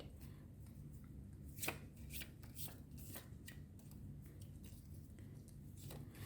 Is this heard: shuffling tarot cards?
yes